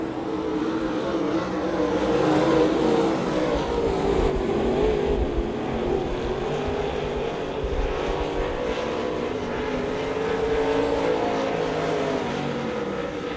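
Stock cars roar through the turns at Devil's Bowl Speedway during weekly championship racing, a continuous layered engine drone that swells and fades as the pack passes, fairly distant with no voices.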